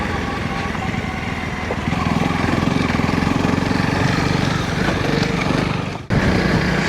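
A Honda CRF 300 L trail motorcycle plods along a bumpy country lane, its engine a steady, close, buzzing drone that holds even with small throttle changes and a brief dip near the end.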